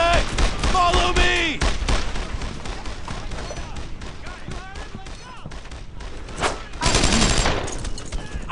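Dense, near volleys of rifle and machine-gun fire in a World War II firefight in Brothers in Arms: Earned in Blood, rattling without pause throughout, with voices shouting under the shots.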